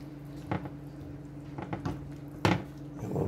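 Collard greens with apple cider vinegar are stirred in a pot, giving a few soft, wet scrapes and clinks over a low steady hum.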